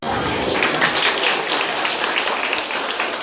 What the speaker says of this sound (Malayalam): വീണ്ടും കൈയടിച്ചേ, വീണ്ടും കൈയടിച്ചേ, ഇനിയും കൈയടിച്ചേ